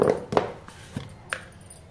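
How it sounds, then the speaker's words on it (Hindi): Spices, a spoon of chilli, being ground by hand on a stone silbatta for baingan bharta: a few separate, faint rough scraping and knocking strokes, close by and sparse, with no talk. "इसे भी मैं सिलबट्टे पे ही पीस लूंगी"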